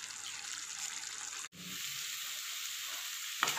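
Mutton varattiyathu sizzles and fries steadily in a covered pan, a continuous close hiss with one brief dropout partway through.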